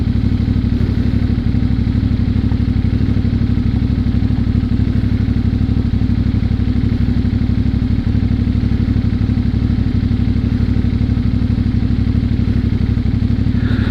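A CF Moto 450MT motorcycle engine on a rural backroad in Mindoro, Philippines, a loud steady low drone close to the mic with a continuous mechanical clatter, holding an even idle-to-cruising note with no clear revving throughout.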